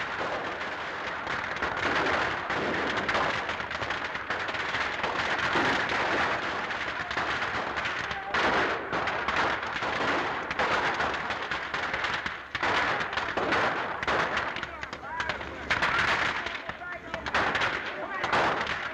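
Rapid machine gun fire rattles through an old film soundtrack, with dense bursts running almost without a break, and voices come through under the shooting.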